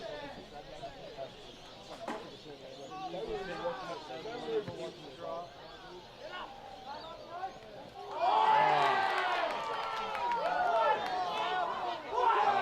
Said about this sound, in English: Grafton crowd certainly not happy with it, and just letting the umpires know how they felt about that call